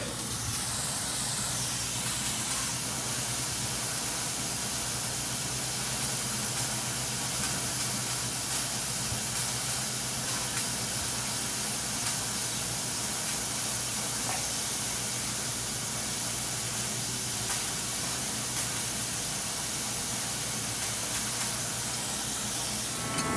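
Pure water sprays steadily out of a leaking airbag suspension leveling valve on a Wanderlodge RV in winter, a loud continuous hiss with an unbroken, even texture and no talking.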